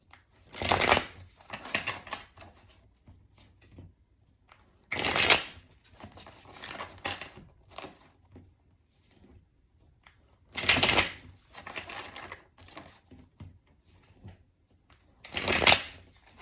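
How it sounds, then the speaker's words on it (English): Cards being shuffled in several distinct bursts of riffling, spaced a few seconds apart, close up with quieter handling sounds between. "I'm going to shuffle this a lot, so give me a second."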